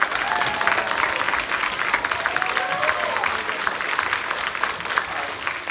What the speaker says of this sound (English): Could you guys give a big round of applause to Mrs. Hutchins?